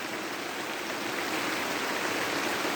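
Outdoors, steady rain falls as a continuous, even hiss of water, loud and unbroken, with no voices.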